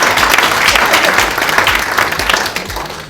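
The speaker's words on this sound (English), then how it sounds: "that deserves a round of applause" Audience applause at a launch event for a maternal and newborn care initiative, a dense, steady wash of clapping from a sizeable crowd that carries on loudly throughout with no voice over it.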